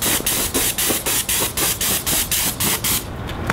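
Airless paint sprayer spraying house trim boards and corner boards outdoors, sounding as a series of about eleven short, regular hissing bursts, each roughly a quarter second long, loud and close, ending in a softer steady hiss.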